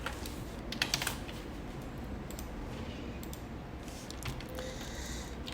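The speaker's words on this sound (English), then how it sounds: "I'll leave a space here and just randomly type in the text" Keys on a computer keyboard tapped in quick, irregular bursts, clustering near the start and again toward the end, fairly close against a steady low room hum with no voices.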